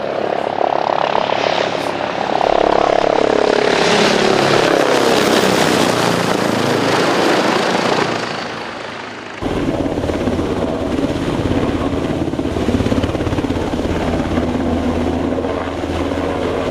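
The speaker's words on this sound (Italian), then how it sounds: "Il supporto aereo verrà garantito attraverso l'intervento di una Combat Air Patrol." Military aircraft fly low overhead on combat air patrol supporting Italian Army Alpini at Falzarego, a loud roaring engine drone that swells and shifts in pitch as it passes, then continues as a steady rumble.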